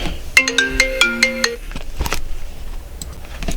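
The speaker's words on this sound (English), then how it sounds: "Sorry guys, got a quick phone call." A phone's ringtone plays for an incoming call, a quick melodic run of bright tones repeated twice, then softer rustling afterward.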